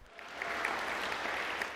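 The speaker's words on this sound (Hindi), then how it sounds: "ताली मत बजाइए, ऑनलाइन," Steady audience applause fills the space, a broad even wash of clapping from a crowd at a spiritual talk, sustained and moderately loud throughout with no voices on top.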